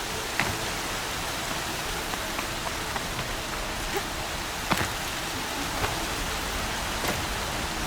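Heavy rain in the Forza Horizon racing video game: a dense, steady downpour hiss that fills the whole stretch, with occasional sharper droplet splashes standing out above the constant wash.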